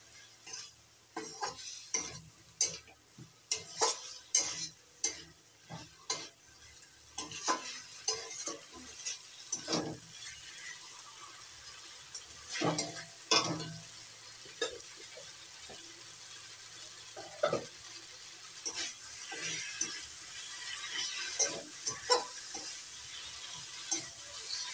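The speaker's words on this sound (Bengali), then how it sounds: "ভেজে রাখা আলু দেওয়ার পর একটু কষিয়ে নেব।" Pre-fried potatoes are stirred into spice paste in a pan, with repeated spoon scrapes and clatters against the metal over a gentle background sizzle, the stirring busy at first and calmer later.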